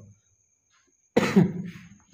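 After a brief silence, a single close, harsh cough breaks out, rough and throaty, followed by quiet.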